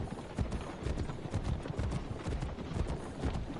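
A horse gallops in Assassin's Creed Brotherhood, its hooves beating a quick, continuous clip-clop rhythm at moderate volume with no voices over it.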